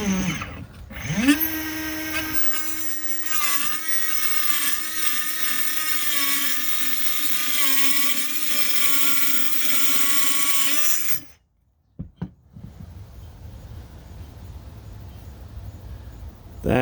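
A Ridgid brushless subcompact 3-inch multi-material saw whines loudly as it cuts through porcelain tile, spinning up and holding a steady high-pitched grinding tone for about ten seconds before cutting off, followed by a few faint clicks.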